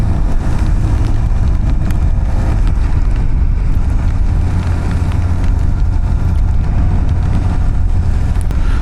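A 2025 Kawasaki Ninja ZX-4 RR motorcycle being ridden, a loud continuous engine drone mixed with heavy wind rush over the microphone.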